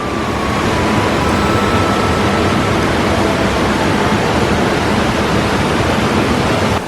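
A waterfall roars in a gorge at Watkins Glen State Park, swollen by morning rain and heard from behind the falling water. The rush is loud, dense and unbroken from start to finish.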